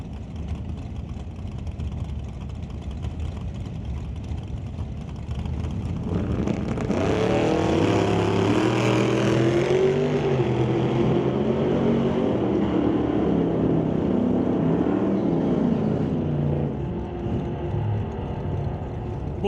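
A Precision Performance roadster and a straight-axle Chevrolet Bel Air launch side by side at a drag strip, the engines roaring up from a rumbling idle to a loud, sustained wail that slowly fades as the cars pull away.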